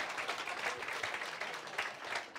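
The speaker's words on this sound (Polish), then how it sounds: "oklaski dla mojej żony" An audience at a conference talk claps steadily for the speaker's wife, a sustained dense applause from a crowd lasting throughout with no talk over it.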